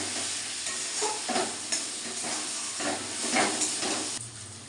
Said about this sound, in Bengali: এবার মশলাটাকে ভালো করে এইভাবে কষিয়ে দিতে হবে